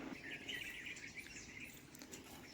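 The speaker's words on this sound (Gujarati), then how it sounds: "પક્ષીઓનો ભાઈ કલરો મીઠો છે" Birds chirping in the morning over farmland, with a continuous bright mesh of high chirps and calls mixed with insect-like buzzing, moderately faint and steady, no talk.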